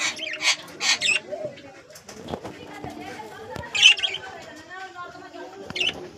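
Breeding pigeons coo and shuffle inside a home loft, soft throaty calls and occasional wing flutters close by, mixed with several sharp bright chirps.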